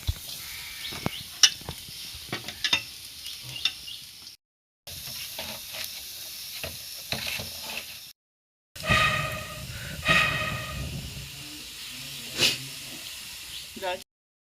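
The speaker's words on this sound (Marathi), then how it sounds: "कांदे भाजून घेते।" Steady sizzling hiss of onions frying in a pan over an outdoor wood-fired clay stove, with occasional clinks and stirring sounds, broken by brief gaps.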